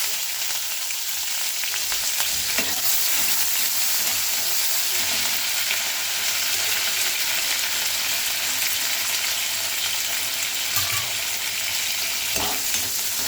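Mustard seeds, cumin, chana dal, dried chilies, onion, green chilies and curry leaves fry in hot oil for a village-style cluster bean curry tempering, a loud continuous sizzle with occasional stirring knocks and no talking.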